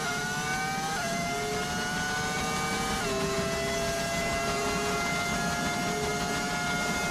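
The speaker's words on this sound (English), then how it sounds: "it's an audio mod to make it sound like a V10 engine" Simulated Formula 1 race car in the F1 25 game, fitted with a V10 engine audio mod, holds a steady high-pitched engine whine with layered harmonics that step down twice as the gears shift, loud and continuous with no talk.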